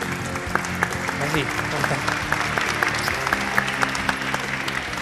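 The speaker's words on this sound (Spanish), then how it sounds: "Ahí está Carolina, un aplauso para ella." An audience applauds for Carolina Torrealba, a molecular and cell biologist, at a public event; loud, dense clapping runs throughout while a voice speaks over it and a few sharper individual claps stand out.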